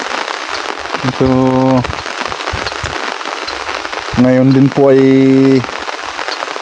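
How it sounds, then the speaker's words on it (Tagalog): Steady rain pattering on a surface during a wet, stormy day, a constant close hiss of drops under a person talking, with bursts of voice interrupting the downpour. "nagsimula ang ulan kaninang 8:30 ng umaga hanggang ngayon"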